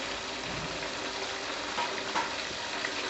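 Tomatoes and whole green chillies frying in a pan with golden onions for chana pulao, giving a steady, even sizzle and hiss throughout with no voices.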